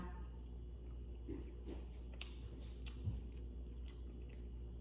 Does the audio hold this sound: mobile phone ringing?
no